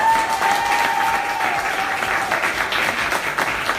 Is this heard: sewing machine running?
no